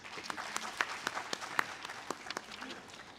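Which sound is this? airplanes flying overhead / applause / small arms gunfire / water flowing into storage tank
applause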